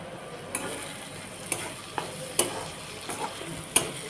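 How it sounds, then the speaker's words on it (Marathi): Soaked matki (moth bean) dal tipped into spices frying in a pan, with a low steady sizzle broken by a few sharp clinks of a spoon against the pan as it is stirred. "आता मध्ये मी भिजू घातलेली मटकीची डाळ त्यामध्ये टाकून घेणार आहे"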